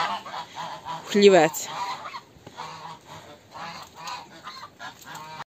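Domestic geese on a village farmstead honk loudly in a burst, then keep up repeated nearby calls, with a voice briefly heard.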